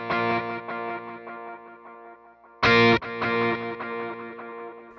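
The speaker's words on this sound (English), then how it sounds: "I'm going to add a dotted eighth delay." Electric guitar run through an effects unit with a dotted eighth delay, played in the studio: a distorted, chorus-tinged line whose notes repeat in rhythmic echoes, with a louder strummed burst near the middle, heard alone.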